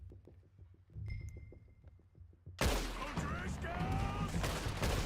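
Gunfire erupts in a Red Dead Redemption 2 shootout against a gang of outlaws, a dense, loud burst of rapid overlapping shots that swells after a quieter stretch of muffled thumps, with voices talking beneath it.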